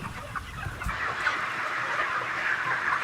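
Hens cluck steadily inside a crowded factory-farm broiler shed, a dense continuous chorus of many birds at moderate level with no voices.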